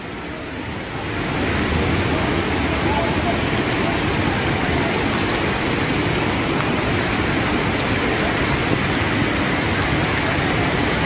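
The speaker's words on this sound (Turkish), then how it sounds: "Yağmur hızlanıyor aynen." Heavy rain falls during flooding in Dereli, Giresun, Turkey, swelling within the first two seconds into a loud, dense, continuous downpour that holds steady throughout.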